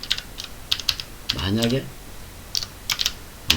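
Computer keyboard keys tapped in short irregular bursts during programming work, close and crisp, with a brief low hum partway through and no speech.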